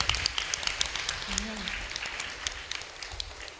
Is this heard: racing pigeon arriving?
no